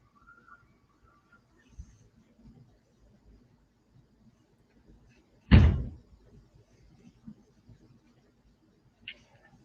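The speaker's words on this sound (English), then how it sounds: "in my opinion, it's a car door or a trunk. Something is closing." A car door or trunk shuts once with a single solid thump midway through, standing out against quiet background with faint rustling and a small click near the end.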